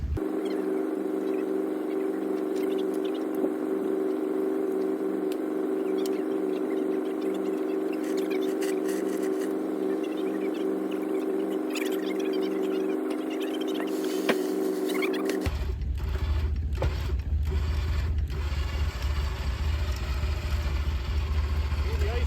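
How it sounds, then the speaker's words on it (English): A vehicle winch hauls a stuck truck out of snow during an off-road ice road recovery. A steady, droning motor whine runs continuously alongside an idling engine, then shifts partway through into a deeper, rougher rumble. "But back to the winch."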